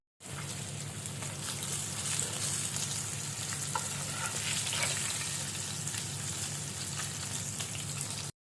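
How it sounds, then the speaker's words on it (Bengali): Food fries in hot oil until golden brown, a steady, moderately quiet sizzle that crackles continuously for several seconds with no talking. "গোল্ডেন ব্রাউন করে ভেজে নিতে হবে।"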